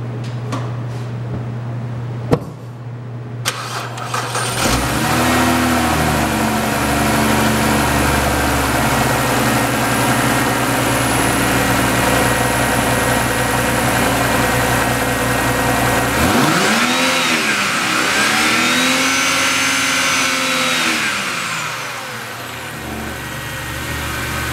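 A 2008 BMW 328xi all-wheel-drive sedan with 104,000 miles cranks and starts, then runs loud and close at a steady idle, with a rising and falling rev near the start and another in the second half.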